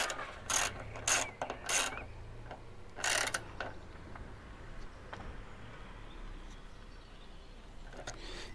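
Screws are tightened to fix a ring on a motorcycle tank bag, with a handful of close ratcheting clicks and short rasping turns early on, then quieter faint handling sounds.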